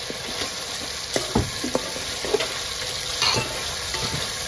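Whole cumin seeds sizzle in hot oil with ginger-garlic paste for a Gujarati green fish curry, a steady crackling fry with scattered pops and occasional stirring scrapes, close and continuous.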